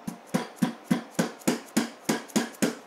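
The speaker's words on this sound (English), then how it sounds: "kind of wedge it in here and tap at it with a rubber mallet" A rubber mallet taps a screwdriver wedged against the fork cap of a Yamaha DT175 dual sport motorcycle: ten evenly spaced, sharp knocks at a steady rhythm, close and alone.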